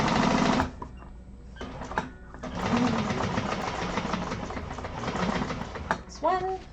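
A sewing machine top stitching a handbag seam, a steady close whirring buzz with brief stops, while someone talks over it.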